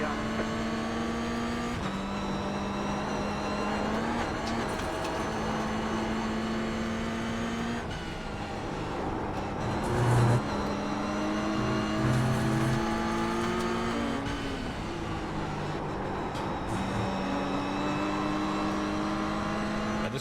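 Toyota GR86 race car engine in the iRacing sim, a steady droning note that rises and drops through gear changes over roughly twenty seconds, with someone talking over it throughout.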